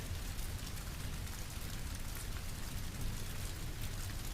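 Steady, soft rain falling outdoors, a continuous even hiss of many drops with no breaks, no thunder and no voices.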